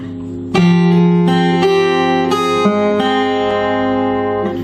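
A fingerstyle acoustic guitar plays a short song phrase with two notes sounding together, a steady series of close, bright plucked tones ringing into each other, with no voices.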